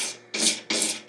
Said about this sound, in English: Scrape the majority off so I don't have as much sanding to do.